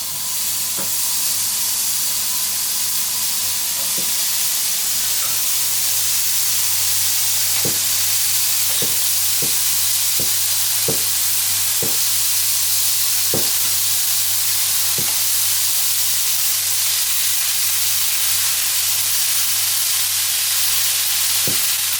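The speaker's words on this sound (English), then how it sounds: "Now I'll place it on the pan." A steady sizzling hiss of meat slices frying in a pan, with occasional light clicks and taps of utensils; no voices.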